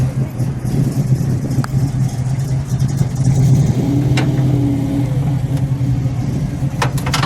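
A lime green 1972 Ford Maverick Grabber with an upgraded 302 V8 idles steadily and close, its low rumble rising into one brief rev midway before settling back, with no one talking over it.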